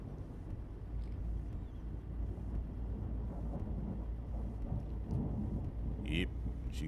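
Thunder rolls and rumbles continuously around a truck driving through a thunderstorm in American Truck Simulator, a heavy low roar with rain and wind mixed in.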